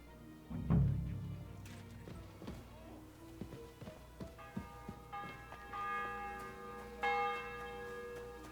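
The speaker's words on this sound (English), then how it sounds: "The bell's ringing for hands the 5th time" A church bell in the video game Kingdom Come: Deliverance 2 rings with several resonant strikes, the tones overlapping and sustaining, over a low steady background hum.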